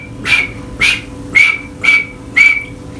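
Five short, sharp whistle blasts sound at an even pace, each clear and close with brief quiet gaps between them, used as a field signal warning of enemy aircraft.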